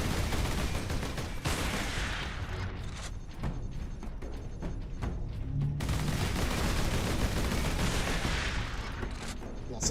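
Heavy gunfire and explosive bursts from Warhammer 40K Space Marine roar in dense waves, briefly thinning mid-way before surging back, loud and continuous with faint voices underneath.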